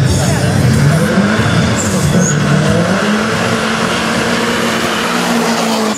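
Volkswagen Golf 1 race car with a 1.8-litre engine revs hard at close range, its engine note rising and falling with tyre squeal, while a commentator talks over it the whole time.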